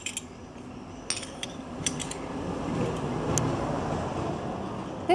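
Seven Chinese porcelain spoons, 10.5 to 14 cm long and in good condition, are handled, giving a few light, sharp clinks and ticks scattered over a low steady background hum.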